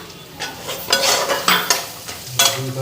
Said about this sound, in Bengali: মশলাটা ভাজা হোক